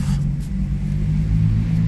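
Low, steady engine rumble from a car pulling away and driving off, a loud and constant drone heard from inside the vehicle with no talking.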